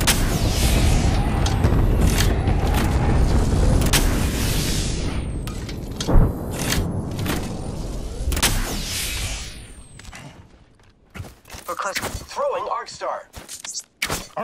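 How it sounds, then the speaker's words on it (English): Airstrike explosions in Apex Legends, a string of loud booms and shattering blasts with sharp impacts, fading into scattered gunfire and clatter while a voice talks over the action. "Calling the airstrike."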